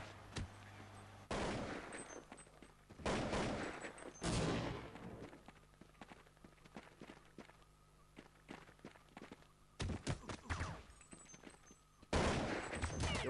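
Gunfire erupts in bursts during a Counter-Strike match on the de_nuke map, loud rifle volleys separated by quieter stretches of footsteps and movement, with several sharp close shots near the end.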